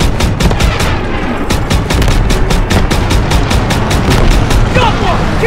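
Sustained automatic gunfire in Call of Duty WWII, loud and close with a steady rapid rhythm of shots, joined by booming impacts and a busy battle din.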